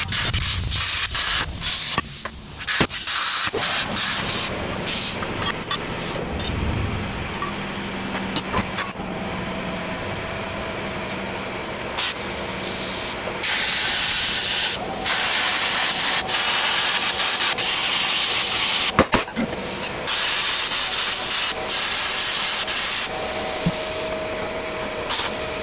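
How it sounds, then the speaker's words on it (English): Power tool cutting through the U-bolts on a truck axle to free the leaf springs: a continuous harsh grinding hiss that holds steady for the whole stretch, close and loud, with small shifts in pitch and no talking. "I'm about to cut these U-bolts off so I can get the leaf springs out of here"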